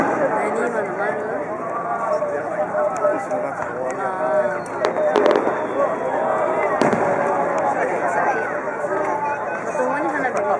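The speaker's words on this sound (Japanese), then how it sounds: "まともに花火見たわ。" Fireworks bursting at the 2011 Inagawa fireworks festival in Japan, with scattered sharp bangs rising above a steady wash of crowd chatter and nearby people talking throughout.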